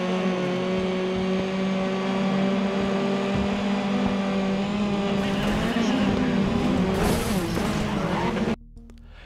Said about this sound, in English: And last up, some Grid Autosport.